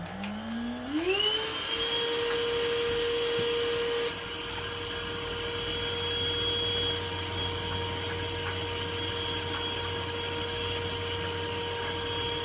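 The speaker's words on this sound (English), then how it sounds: "Turn the vacuum on." A vacuum cleaner spins up with a rising whine and then holds a loud, steady, high-pitched drone as it sucks yellow jackets off a bedroom ceiling, running close and alone without pause.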